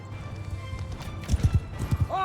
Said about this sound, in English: Horses! Let's group up our cavalry